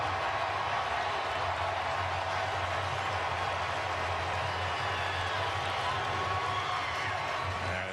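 A packed football stadium crowd at the OU vs Texas game roars and cheers in a steady, dense wall of noise that holds loud and unbroken throughout.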